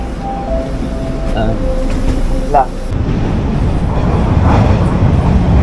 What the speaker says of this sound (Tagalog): parating na yung tren na sasakyan namin